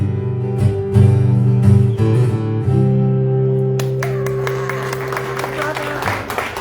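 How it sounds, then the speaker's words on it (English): A small audience at a Bar Grazie show claps after a song, with scattered, fairly sparse applause breaking out as a sustained musical chord rings on and fades. "That was the most tolerant applause I've ever heard."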